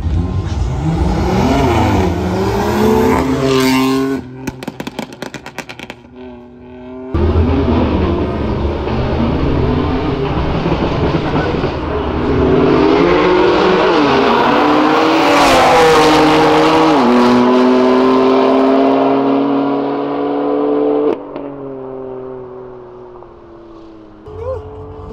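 An Audi RS3 and a BMW M4 race side by side at a legal street-style drag event in Brazil, engines revving hard and climbing through the gears, loud and close, with brief gaps between pulls.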